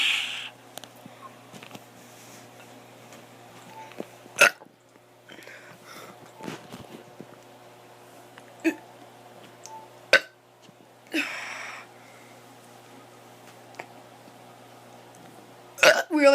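A child burps several times, short sharp bursts spaced a few seconds apart over a quiet room hum, with faint breathy sounds in between.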